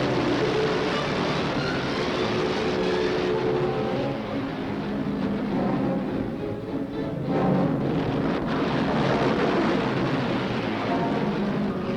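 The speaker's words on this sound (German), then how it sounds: "Der von Jagdverbänden geschützte Bomberpulk kommt näher." A WWII bomber formation escorted by fighter groups drones in steadily, its massed piston engines forming a thick, continuous roar that swells slightly as the aircraft draw nearer, with no voices over it.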